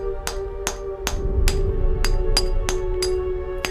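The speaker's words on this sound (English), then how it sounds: "Probably have to use the hammer and chisel to weaken the wall" Hammer and chisel striking a stone wall in the video game Pillars of Eternity, nine sharp evenly spaced metallic blows ringing over a steady humming drone, with no talk.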